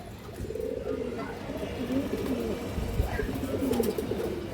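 Muslodom pigeons coo in low, rolling calls at a farm loft, close and fairly steady over a background murmur, with faint voices in the distance.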